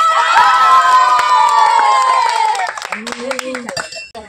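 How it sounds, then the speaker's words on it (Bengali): Loud cheering and shouting from a lively crowd with children at a money-winning glass game, with scattered claps, high voices fading into ragged shouts and claps toward the end. "তার জন্য জোরে হাততালি।"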